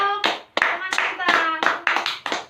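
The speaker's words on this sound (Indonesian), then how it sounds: "Beri tepuk tangan untuk teman kita" Classmates in a micro-teaching lesson clap for a fellow student: scattered, uneven hand claps in short bursts, close by, mixed with voices talking over them.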